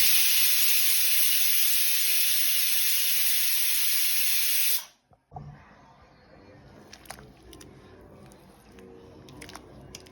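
A pressure cooker cooking dal (dosakaya pappu) lets off a loud, steady steam whistle-hiss for about five seconds, which then cuts off abruptly, leaving quiet kitchen sounds and faint clatter.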